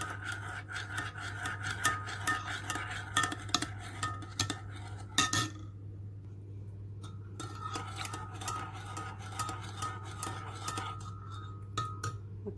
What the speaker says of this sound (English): add the jelly crystals and keep stirring until the crystals have melted or dissolved